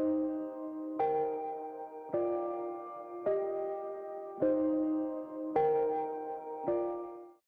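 Rhodes electric piano chords, six struck chords spaced about a second apart, each decaying softly with a warm bell-like attack, moderately quiet and heard alone.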